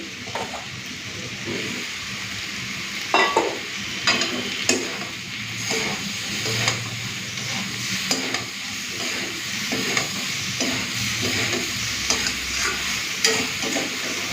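Soybean chunks stir-fried with potato and pointed gourd in spices, a steady close sizzle broken by repeated scraping stirs of a spatula against the pan, with no talking.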